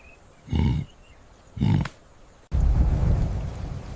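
A thunderstorm with rain in the wild, where a rhinoceros family shelters, brings two short, deep rumbling bursts followed by a sudden, sustained wash of loud, rushing noise like heavy rain.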